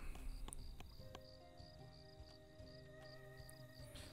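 Crickets chirp through a quiet outdoor ambience in the strategy video game ValeGuard, a steady, faint high-pitched trill repeating without pause, with occasional soft clicks and a low background hum.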